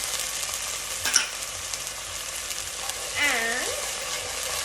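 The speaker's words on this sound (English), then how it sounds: "Give it a little sizzle." Steady, close sizzling and frying hiss of ginger garlic paste in a saucepan fills the whole stretch, with a brief clink and a short whistling tone partway through.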